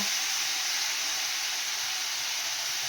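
Garlic and ginger paste frying in a pan with potatoes, onion and tomato gives a steady, loud, even sizzle and hiss, continuous and close with no talk.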